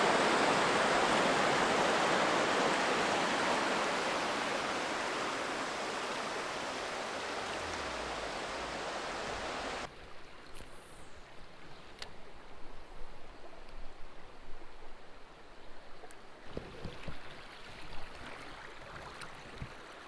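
Flowing creek water near a waterfall, a loud broad rushing wash that fades and then drops to a quieter trickle with scattered splashes and bubbling close by.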